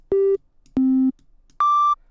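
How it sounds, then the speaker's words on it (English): Three separate synthesized sine wave tones, each clean and held for about a third of a second with short gaps between, the last one pitched noticeably higher than the first two. "Sine waves are naturally soft on the ear because they have no sharp edges."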